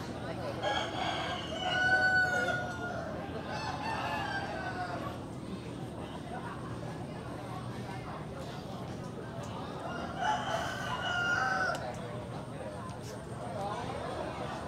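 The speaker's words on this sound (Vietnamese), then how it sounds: "chúng ta có thể thấy là về chỗ chủ quán là nuôi những chú gà nằm bên đây nè." Roosters crowing and chickens clucking at an outdoor eco-restaurant shaded by coconut-leaf roofs, two clear crows several seconds apart over steady chatter and background noise of a busy dining area.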